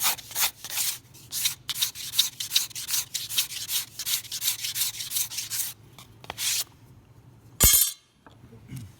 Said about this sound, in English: Finish it off with some sandpaper.